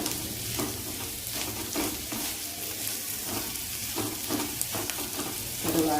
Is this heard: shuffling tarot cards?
no